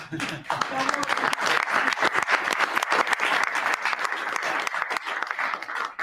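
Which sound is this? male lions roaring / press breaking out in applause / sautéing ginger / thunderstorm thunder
press breaking out in applause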